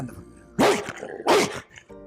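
A man imitates a dog or wolf growling, giving two short, rough, chesty growls close to the microphone.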